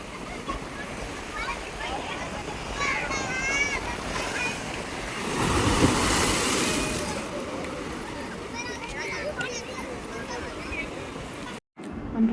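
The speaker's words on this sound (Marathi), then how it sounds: "लाटा कसलं जोरात" Strong sea waves at Pirwadi beach surge and wash in a steady roar, swelling loudest midway, with wind buffeting the microphone and people talking and calling nearby throughout.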